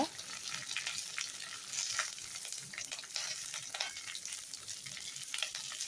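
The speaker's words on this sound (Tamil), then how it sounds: "இப்போ இதை எண்ணெயிலே நல்லா வதக்கி விட்டுக்கோங்க." Curry leaves sizzle and crackle steadily in hot oil for a thokku, with occasional stirring scrapes; a continuous close frying hiss with no talk.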